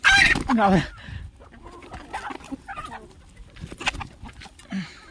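Chickens eating millet grain cluck and squawk close by, a loud burst at the start followed by softer scattered clucks and pecking over a quiet farmyard background.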